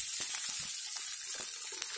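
Wine hitting a hot cauldron of frying chicken and garlic over a campfire, bursting into a loud, steady sizzle with faint stirring clatter.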